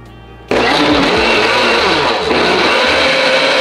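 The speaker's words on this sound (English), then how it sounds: "Blend them like make a smoothie or puree" An electric blender starts abruptly and whirs loudly and steadily as it purees banana, avocado, milk and an egg into a smoothie-like batter, with the motor's pitch shifting slightly as the contents churn.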